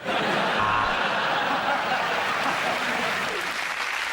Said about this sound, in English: And the crowd are giving him a standing ovation.